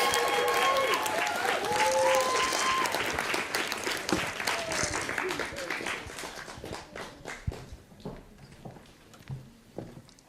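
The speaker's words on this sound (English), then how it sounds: "Let's give them a round of applause." Audience applause and cheering for a band at a bomba music night, loud and dense at first with some whoops, then thinning into scattered claps and fading toward the end.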